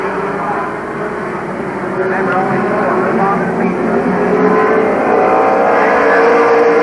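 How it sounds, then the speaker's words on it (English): Race cars roar around Columbus Motor Speedway under a green flag, a loud, sustained engine drone that swells slightly as the pack accelerates, with an announcer's voice running over it. "Green flag flies, we are racing once again."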